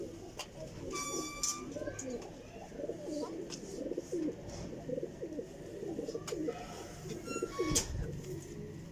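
Pakistani high-flying racing pigeons coo softly and repeatedly at close range, with low, throaty calls layered over faint background noise and occasional chirps.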